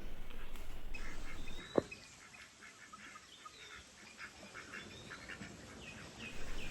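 Ducks in the water quack faintly in the background over an outdoor ambience, with a sharp click or knock early on.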